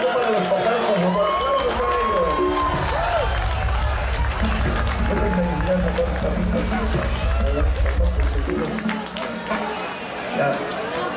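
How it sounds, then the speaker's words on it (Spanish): Concert crowd at a show in Venezuela applauds and cheers for the fathers, a loud, dense roar of clapping and voices sustained throughout with music and a voice faintly underneath. "Aplausos para los papás, por favor."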